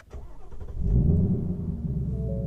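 A car engine cranks and catches, settling into a steady low idle rumble, close and fairly loud, with no talking.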